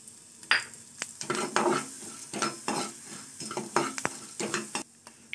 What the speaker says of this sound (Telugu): ఇదే ఆయిల్ లో ఉద్దిపప్పు ఫ్రై చేసుకుందాం